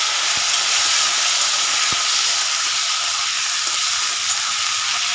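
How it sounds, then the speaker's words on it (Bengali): Tomato tossed into a pan of fried potatoes sets off a steady, loud sizzle and hiss that runs the whole way through, with a couple of faint thumps of stirring underneath. "আলুটা ভাজা ভাজা হয়ে গেছে, এবার আমি টমেটোটা দিয়ে দেবো"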